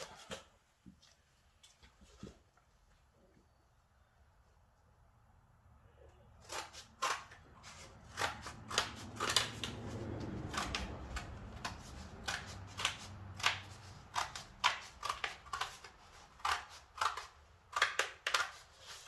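Cardboard being cut for a wide-body fender mockup, first quiet scattered snips, then repeated sharp crunching cuts and tearing in an irregular rhythm, close and fairly loud.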